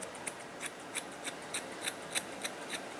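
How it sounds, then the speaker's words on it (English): Blending scissors snip through hair while a barber trims a classic flat top, a steady series of about a dozen crisp, close metallic cuts at a regular, quick rhythm with no talking. "just go over it with your blending scissors"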